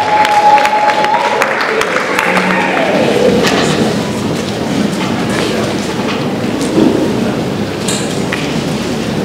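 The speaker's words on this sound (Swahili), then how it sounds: "Tuwapigie tena makofi kwa Yesu." An audience at a graduation ceremony applauds, producing dense, loud clapping that keeps up steadily for about nine seconds.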